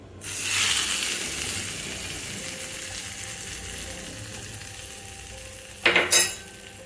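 Curry leaf tempering hits garlic chutney with a sudden loud sizzle that settles into a steady fry, then a couple of sharp clinks and a brief stir near the end.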